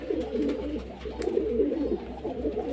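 Pigeons coo in low, overlapping murmurs as they feed on a bowl of rice, a steady nearby flock sound with a constant low hum beneath it.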